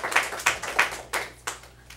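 A few people clapping at a county commissioners' meeting after a public comment, a sparse, uneven patter of hand claps that thins out and fades within two seconds.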